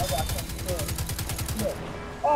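Rapid automatic gunfire shooting at a ship in the Destiny 2 video game, a fast, even stream of shots lasting about two seconds, with brief game tones and effects over it.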